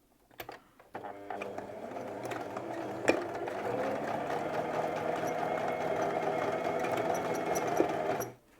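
A sewing machine runs a continuous seam along the side of pyjama trousers to hold an elastic waistband, a steady close-up whir starting after a few brief clicks and stopping abruptly at the end.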